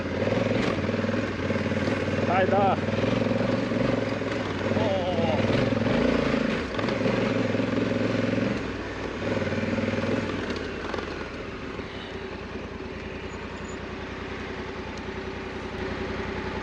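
A 2020 Honda Africa Twin ridden off-road, its engine droning loud and steady with shifting pitch, then easing quieter toward the end as wind and rough-ground noise come through; a rider talks over it at times.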